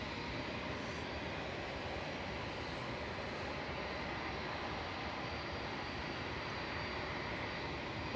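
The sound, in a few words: aircraft departing Manchester Airport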